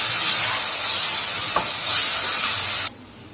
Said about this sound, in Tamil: சிக்கனை சேர்த்து நல்லா கலருங்க